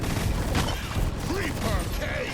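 Concussive barrage weapon firing in the Deep Rock Galactic Rogue Core game, a dense volley of thumping blasts over continuous combat noise, with game sounds and chatter throughout.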